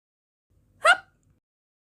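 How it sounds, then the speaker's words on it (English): A single short hiccup, close and fairly loud, standing alone in near silence. "I got a hiccup."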